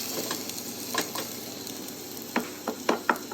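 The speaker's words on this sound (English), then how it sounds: "Cook the onions and garlic until they're translucent, stirring occasionally." Onions and garlic sizzle softly in a pan under a steady hiss, and a few sharp scrapes and taps of a utensil come near the end as they are stirred.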